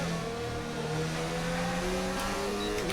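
Continuous high-revving engine whine of a modded F1 race car in the video game F1 2020, loud and steady with shifting pitch as the car accelerates through a race.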